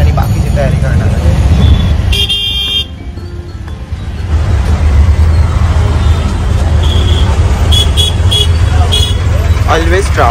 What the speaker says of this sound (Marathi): Always traffic.